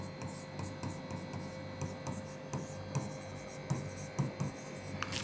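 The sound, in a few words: writing by hand on an acknowledgement card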